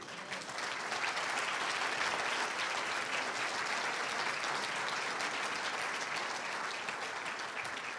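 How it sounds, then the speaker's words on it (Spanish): A church congregation applauds during a sermon, a dense, sustained wash of clapping that swells quickly and holds evenly before easing slightly toward the end. "Demos un aplauso al Señor por eso"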